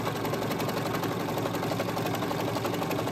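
A serger stitches the edge of jersey knit fabric with a fast, continuous mechanical whirr. Its rapid needle chatter holds steady and fairly loud the whole time.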